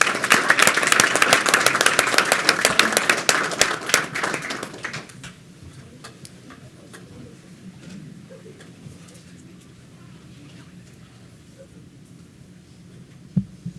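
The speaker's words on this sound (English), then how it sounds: "Let's give them a round of applause." Applause from a town council meeting audience, a dense burst of clapping for the first five seconds that stops abruptly, leaving quiet room murmur and scattered faint taps.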